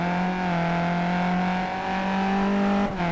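A Skip Barber race car at Bathurst holds a steady, loud engine drone with a sustained tonal whine as it heads down into Skyline, with a brief dip and shift near the end.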